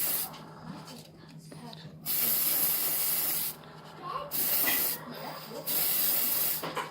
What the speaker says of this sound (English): I'm just going to hold it at the bottom of kind of the cone of spray